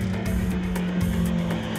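A BMW 1M Coupé pulls away under steady engine drone, a low continuous hum with the car close and fairly loud throughout, no voices.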